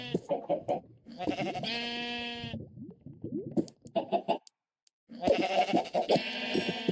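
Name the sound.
sheep bleating in the video game Minecraft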